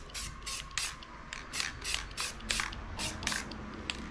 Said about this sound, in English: When you're making shading, you want very fine sprays.